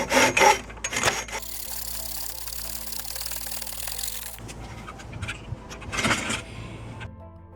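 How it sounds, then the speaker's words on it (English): A hand miter saw cuts strip pine wood: rough rasping strokes at first, then a long steady grinding cut with a humming drone underneath, followed by a few more scraping strokes, close up with no speech. "Using a hand miter saw, I'm going to cut them at a 45-degree angle"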